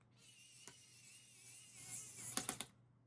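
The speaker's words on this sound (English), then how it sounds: "So tighten down these side screws." Small screws being tightened by hand on a homemade emergency locator transmitter for a Cessna 172: a faint click early on, then a brief cluster of sharp ratcheting clicks near the end over a quiet hum.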